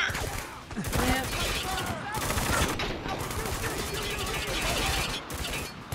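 Heavy gunfire from the shooter game Spec Ops The Line, a thick barrage of overlapping rifle and automatic shots at close range, with voices shouting amid the firefight.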